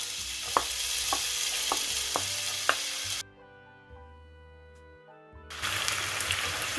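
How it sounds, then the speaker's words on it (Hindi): Potatoes frying in a few tablespoons of oil in a preheated pan give a steady, close sizzle with sharp stirring clicks, broken by a few seconds of near silence before the frying noise returns. "अब इसमें पोटैटो डाल के इसको फ्राई कर लेंगे।"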